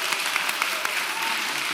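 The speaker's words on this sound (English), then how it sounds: "just let them clap for me" An audience claps steadily, a dense burst of applause filling the short moment with no voices over it.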